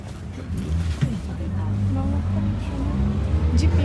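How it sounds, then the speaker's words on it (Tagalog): A jeep passing on a street, its engine a steady low rumble that swells slightly as it goes by, with faint background chatter and traffic noise. "Jeep yan."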